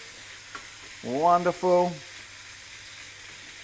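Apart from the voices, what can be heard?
bacon sizzling in a frying pan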